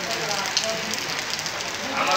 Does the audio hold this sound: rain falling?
yes